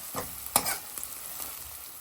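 Onion and garlic paste fries in oil for tuver totha, a steady soft sizzle with several scraping stirs of a spoon against the pan, close and fairly quiet, no talking.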